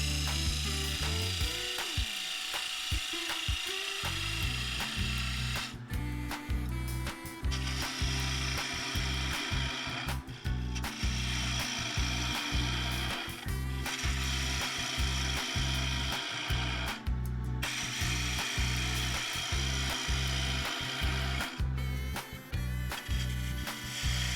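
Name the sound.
woodturning tool cutting a silky oak bowl on a lathe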